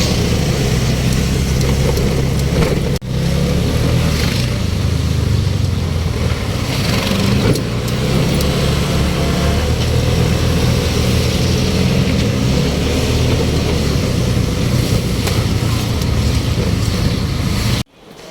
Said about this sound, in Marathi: आता रिक्षा स्टँडला पोहोचेन 5 मिनिटात आणि रिक्षा पकडून स्टेशनला जाईन.